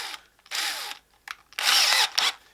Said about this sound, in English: use that 1/2 inch bit again that we used for the dowels